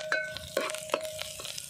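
Tempering crackles in hot oil on a wood-fired stove, with short sizzling bursts and a few sharp utensil clinks as it is stirred, close and fairly quiet.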